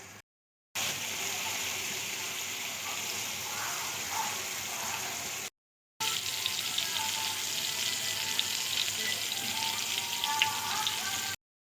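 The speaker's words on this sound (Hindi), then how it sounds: "ताकि हमारे जो है कबाब अच्छे से फ्राई हो।" Chapli kebabs, seekh kebabs and tikka boti frying in a pan, a steady hissing sizzle with light bubbling and crackle, close up and continuous across two takes separated by short silent gaps.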